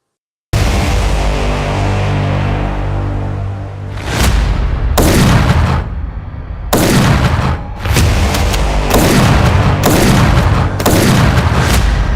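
Several loud, sharp gunshots from a custom-built 5.56 rifle fitted with a Cold Spec War suppressor and Cerakoted in graphite black, fired one at a time at irregular intervals, each blast followed by a short decaying tail, with no talking.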